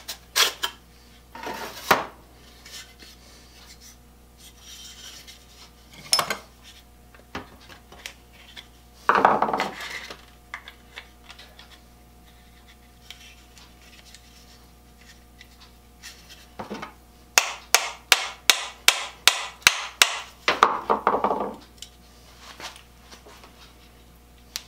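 Sharp metallic hammer blows knock a varnished, stuck wooden tote free of an antique saw blade, in scattered single strikes and then a fast run of about ten close, ringing taps, with no talking.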